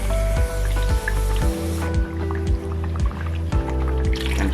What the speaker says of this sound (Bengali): তখন আমি কোফতাটা দিব।